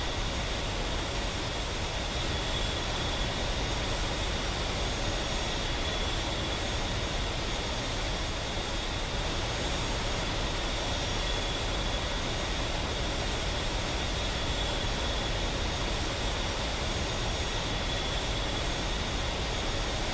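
Spitfire engine in a flight simulator game, a steady, dense, unchanging roar with a faint high whine running through it, loud and continuous throughout with no other sounds.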